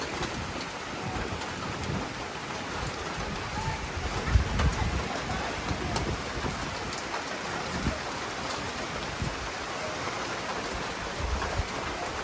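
Heavy rain pours steadily at Winifred Beach during a horseback photoshoot, a dense continuous hiss of drops on surfaces filling the scene, with faint voices briefly underneath.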